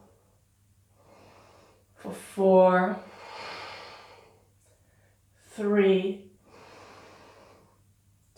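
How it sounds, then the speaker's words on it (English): Slow, audible breaths taken while holding a grounding yoga pose with the feet apart, soft airy exhales drifting between two short bursts of a nearby voice counting down. "Breathing here"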